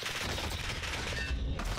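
SMG gunfire rattles in the video game Warzone, a dense continuous burst of rapid shots that stays loud throughout with no gaps, and no talk.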